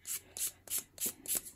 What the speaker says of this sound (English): I'm gonna take my amazing sanding tool and I'm gonna sand edges of the